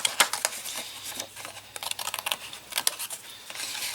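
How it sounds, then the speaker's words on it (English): Hurried, messy scissor cuts through a cardboard K-Cup gift box piece, a close run of quick crisp snips and rustles that bunch together and pause briefly. "I'm going to cut very hurriedly and very messy, but just to show you that it will work."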